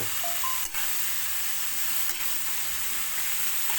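Carrots and bean sprouts sauté in a hot pan with a steady, dense sizzling hiss, plus a couple of brief stirring knocks, close and fairly loud.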